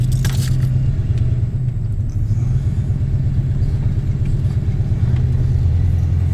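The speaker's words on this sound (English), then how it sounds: "truck's a little bouncy with all this firewood in here." A truck drives along carrying a bouncing load of firewood, with a steady low engine rumble and road noise throughout, plus faint rattling from loose contents in the cab.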